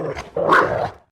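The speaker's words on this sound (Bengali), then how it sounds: "ওরে বাপরে, এ তো একটা কুকুর!" A cartoon dog lets out a short bark followed by a longer, rough growling bark, two close, loud bursts within about a second before cutting to silence.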